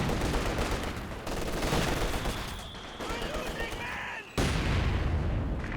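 Mortar fire and gunfire in Company of Heroes 2 during a 2v2 match with several mortars: dense, continuous explosive crackle and rumble that dips briefly near the end and then resumes loudly, with a voice talking over it.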